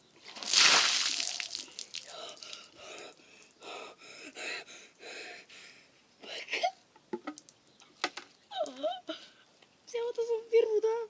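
Water dumped from buckets onto a person during an ice bucket challenge, one big splash and slosh followed by sharp gasps, shaky breathing and shrieks, with people talking and reacting throughout.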